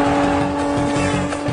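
A car engine pulls hard and accelerates, a loud steady drone with a strong hum running throughout, heard up close with no voices.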